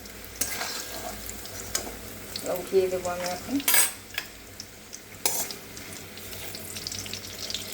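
Fried bitter gourd and lentil dumplings are lifted and stirred in a pan of oil, with a faint sizzle, scraping of a utensil and a few sharp metallic clinks, while someone speaks briefly.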